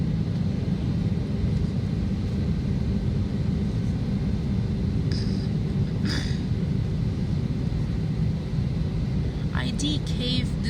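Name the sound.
airplane taking off, Las Vegas to Houston flight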